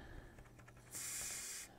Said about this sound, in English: just ever so gently spray a little bit